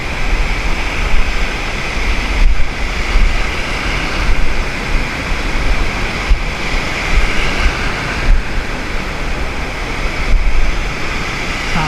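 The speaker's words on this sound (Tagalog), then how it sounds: "Malaki ng alon" Large ocean waves break at Siargao, a steady, loud roar of surf with periodic surges and wind buffeting the microphone, and no voices.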